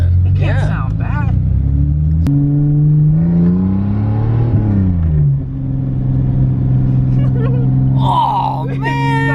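A Toyota Supra inline-six engine revs through its exhaust with a smooth, rising and falling drone that is loud and close, while people talk excitedly over it.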